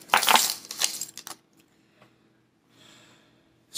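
A set of keys on a keychain is handled up close, giving a few quick metallic jingles and clinks at the start, then quieter faint rattles and a brief rustle, with a last clink at the end.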